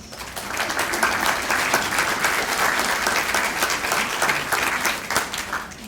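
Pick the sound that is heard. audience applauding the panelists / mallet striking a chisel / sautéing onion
audience applauding the panelists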